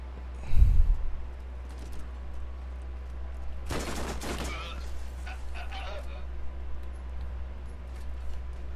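Gunfire in the Borderlands game comes as a dense burst of rapid shots in the middle, with a short voice sound near the start and faint background ambience otherwise.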